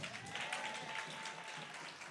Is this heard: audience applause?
yes